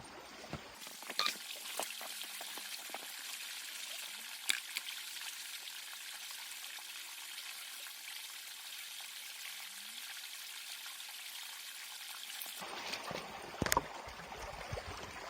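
Water and gravel swirled in a gold pan at a river, a quiet continuous wash and trickle with occasional gravel clicks and knocks, sharper handling clatter at the start and end.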